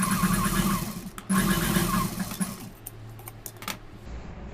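Sewing machine stitching blouse fabric onto canvas, a steady motor whir with rapid needle clatter running continuously, pausing briefly near the start and later breaking into shorter bursts.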